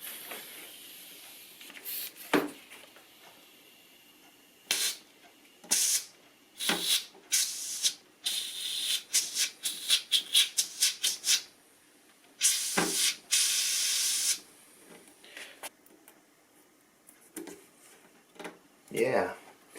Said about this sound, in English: I'm going to take some air and blow in a bit of air into the glue with this little suction cup.